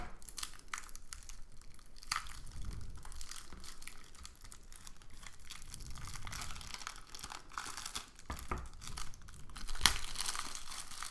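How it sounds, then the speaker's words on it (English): A card game box is opened with scissors: close, quiet crinkling and tearing of plastic wrap with scattered snips, rustles and crunches, no talking. "inside the box is everything else, which I'm gonna open with scissors."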